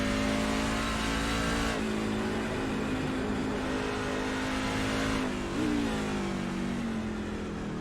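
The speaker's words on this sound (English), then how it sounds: "You can hear that downshifting in gears." A race car's engine in an iRacing IROC race at the Daytona road course revs high and steady, then drops sharply through downshifts at two points, close and loud throughout.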